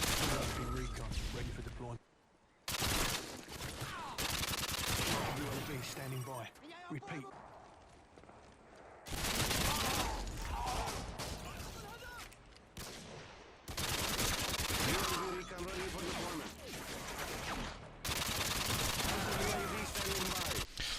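Submachine gun fire in Modern Warfare 2 gameplay, dense loud bursts of rapid shots broken by short quiet gaps, with some footsteps and game sounds between volleys.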